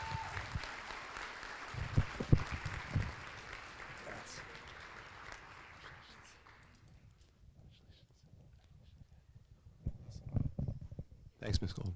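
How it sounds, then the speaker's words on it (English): Applause from the audience at a board of education meeting, several bursts of clapping that fade into quiet and then pick up again near the end, with some voices mixed in. "If we can give them one more round of applause."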